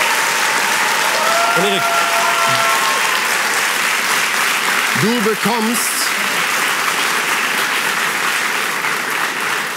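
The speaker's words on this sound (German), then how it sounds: "nochmal einen kleinen Applaus" A studio audience on a television show gives steady, sustained applause that fills the room at an even level, while someone speaks briefly over the clapping a couple of times.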